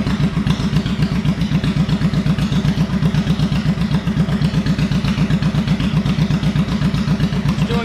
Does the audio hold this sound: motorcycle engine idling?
yes